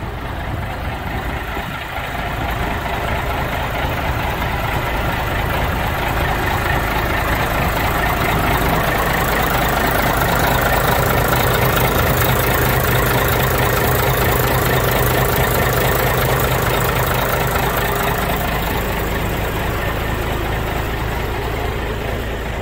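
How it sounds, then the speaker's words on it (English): A 1983 Mack truck engine idles steadily up close, a continuous low diesel rumble with a faint rhythmic chug that holds loud and even for over twenty seconds, with no talking over it. "Damn truck sound better than mine."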